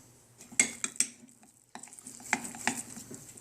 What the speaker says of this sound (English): So I don't want it to get solid. I'm going to keep stirring it.